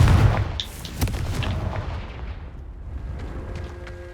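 Confringo blasting spell cast in Hogwarts Legacy, a sharp booming blast at the start followed by a rumbling burst and scattered crackling debris that fades over a few seconds, with no voices.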